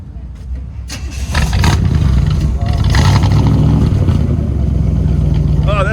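A car engine roars and revs loudly up close, a deep steady rumble that swells after the first second, with a voice speaking briefly over it.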